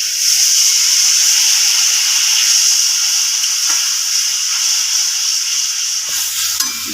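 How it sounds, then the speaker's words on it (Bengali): Water poured onto fried spice masala sets off a loud, steady sizzle and hiss of steam that carries on throughout, with a few faint clinks near the end. "মশলাটা কষানো হয়ে গেছে, এবার আমি জল দিয়ে দেবো।"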